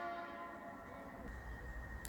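A train horn sounding as a train approaches a crossing: a sustained, steady horn tone held through the moment, somewhat distant and fairly quiet, over low rumbling.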